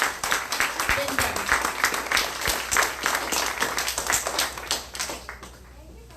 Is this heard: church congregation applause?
yes